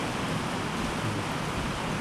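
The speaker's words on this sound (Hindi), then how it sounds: "जैसे कि अभी कितनी ज़ोर से बारिश हो रही है ना" Heavy rain pours in a dense, unbroken roar, loud and steady from start to finish with no voices over it.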